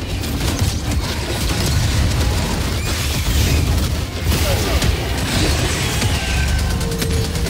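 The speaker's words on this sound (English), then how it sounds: "Throwing grenade!" Dense, continuous battlefield roar from a grenade blast in the Helldivers 2 video game after a bug tunnel breach, with heavy booming and crackling bursts running loud throughout and no clear single isolated detonation.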